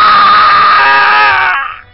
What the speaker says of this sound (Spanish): El grito del desahogo de nuestro amigo comunicante.